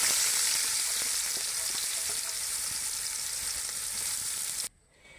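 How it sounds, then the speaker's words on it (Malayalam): Sliced onions fry in hot oil, producing a continuous bright, hissing sizzle with light crackles, heard close and steady before it cuts off near the end. "അടുത്ത നമ്മൾ സവാള വറുത്ത് വരാൻ വേണ്ടി ഇടുകയാണ്"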